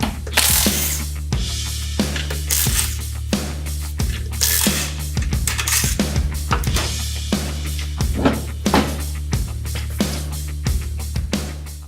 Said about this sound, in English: grab a 3/4 inch socket and remove the spare tire